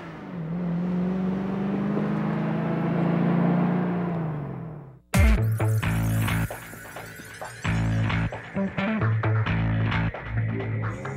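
A Lexus IS 430 driven by race legend Rod Millen holds a rising, droning engine note for about five seconds, then after a sharp cut roars nearby with repeated revs, shifts and throttle bursts.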